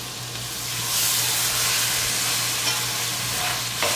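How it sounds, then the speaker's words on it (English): Coconut milk going into a hot pot for Puerto Rican rice and pigeon peas gives a steady close sizzle and bubbling hiss, with a low hum running underneath throughout. "I'm adding my coconut milk."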